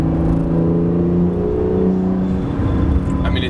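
A 2017 Acura NSX drives along with its turbo spooling, a steady engine drone and rising whir that swell and ease under the cabin hum.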